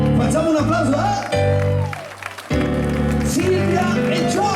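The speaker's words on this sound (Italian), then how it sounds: "facciamo un applauso a" Audience clapping at an outdoor evening show in a town square, loud crowd applause mixed with a sustained music bed and a brief dip before the music returns.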